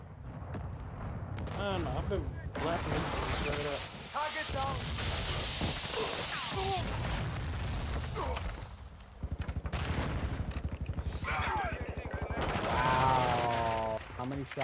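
Rapid bursts of automatic gunfire and shots from a Call of Duty Hardpoint match, loud and nearly continuous, with players' voices talking over the shooting throughout.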